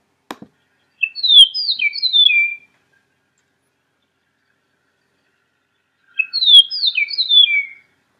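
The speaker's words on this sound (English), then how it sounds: "And so that's the western meadowlark." A western meadowlark sings two clear, bright phrases of flute-like descending whistles, separated by a pause of silence, with a faint click just before the first.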